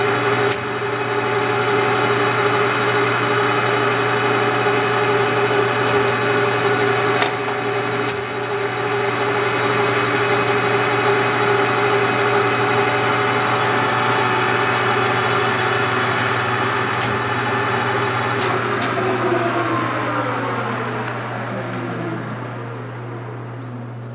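A Leblond Makino 19-inch by 54-inch lathe spindle spins at 820 RPM, giving a steady loud mechanical hum with constant tones that holds for about twenty seconds, then the pitch sweeps down as it winds toward a stop.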